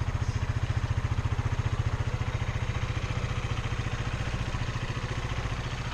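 A Honda CRF230M motorcycle engine runs close by, out for the first time after winter, with a fast, even, chugging idle pulse and mechanical clatter throughout, steady and fairly loud with no talk.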